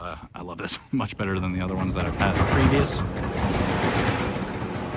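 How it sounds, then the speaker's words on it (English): The retractable bed cover on a 2023 Ford F250 rolls back with a loud, steady mechanical whir and rattle that runs for several seconds, while a person talks over its start. "Sorry about the noise, that is kind of loud, but it is the retracts."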